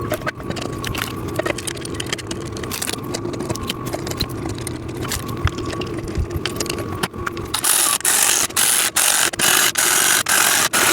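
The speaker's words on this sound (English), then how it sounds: "you are screwing those in on either side" Nuts and bolts being screwed in by hand on either side of a wooden leg assembly, giving a steady run of small ratcheting, clicking mechanical sounds that grow brighter and more rapid toward the end.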